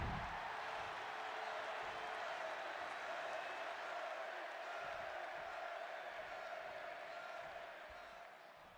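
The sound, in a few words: wrestling crowd in WWE 2K26 video game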